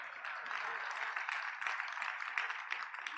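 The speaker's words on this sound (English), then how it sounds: "You can applaud her." An audience at a museum opening ceremony claps for the speaker's wife, producing steady, even applause that carries on throughout without pause.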